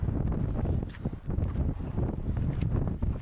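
Gusty wind buffets the microphone on Iceland's volcanic coast, a continuous low roaring rumble that swells and dips with the gusts, with no one speaking.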